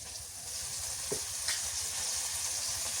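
Green chilies with garlic and onion paste frying in hot oil for a fish curry, a steady close sizzle with a few brief pops and stirring scrapes, no voices.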